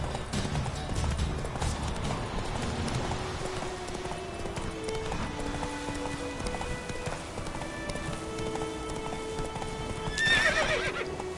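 The horse Roach gallops in The Witcher 3 with a rapid, steady clip-clop of hooves over soft game music, then a loud whinny near the end.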